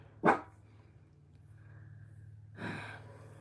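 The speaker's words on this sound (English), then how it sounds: "I hear Doggy." Two short, sharp dog barks about two seconds apart, fairly close, with a low steady hum underneath.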